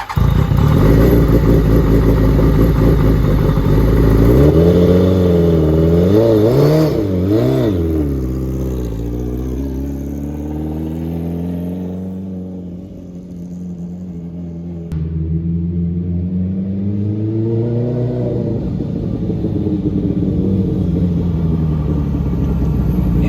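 A Suzuki Hayabusa engine swapped into a Rush SR race car revs loudly and close, climbing and falling in several sweeps through a sustained growling idle-to-high-rpm rumble.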